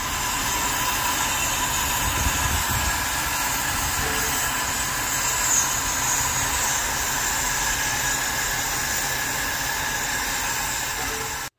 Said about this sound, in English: it's an old vintage train